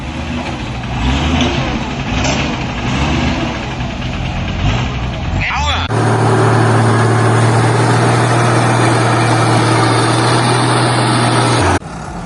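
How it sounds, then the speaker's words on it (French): A heavy truck engine rumbles steadily at idle, loud and close, then settles into a deeper, more even drone after a sudden shift midway, with a narrator's voice over it. "Le silence n'est troublé que par le vrombissement du moteur"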